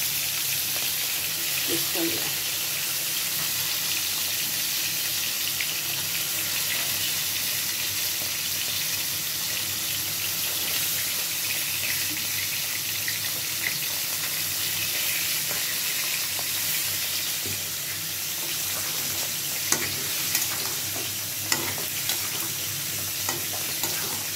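Fish fries in cooked spice masala for a fish do pyaza, with a steady close sizzle and occasional stirring scrapes throughout, no voices.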